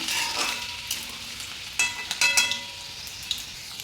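Garlic sizzles steadily in oil with a bright hiss, punctuated by a few sharper crackles and a utensil tap; no voices.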